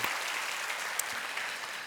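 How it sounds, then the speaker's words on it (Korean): A Friday-night prayer service congregation at a Korean church claps, giving encouragement for the youth ministry. The broadband clapping runs steadily at a moderate, fairly distant level for the full two seconds. "우리 다음 세대를 위해서 격려의 박수 또 한번 할까요?"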